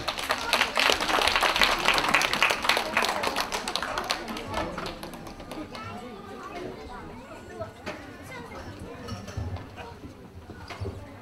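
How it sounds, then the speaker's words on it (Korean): An audience claps for a team at an ocarina contest, with dense applause loudest at the start that thins to scattered claps while an announcer speaks over it. "힘찬 응원의 박수 부탁드립니다."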